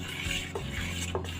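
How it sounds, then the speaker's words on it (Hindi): A spoon stirs buttermilk and semolina batter in a bowl, producing soft wet swishes and a couple of light scrapes, close and continuous. "मैं इसको मिक्स कर लेती हूँ"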